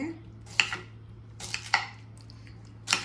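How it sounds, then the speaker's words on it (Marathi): Pineapple being cut into small pieces on a board, a few separate knife chops and clacks spaced out over a few seconds, fairly quiet with a steady low hum behind. "फटाफट त्याला कट करून घेते छोटे छोटे पीसेसमध्ये"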